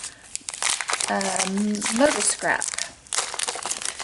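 Patterned holiday craft paper from a woodland-themed card kit crinkles and rustles as it is handled, in loose bursts of crackling under someone talking.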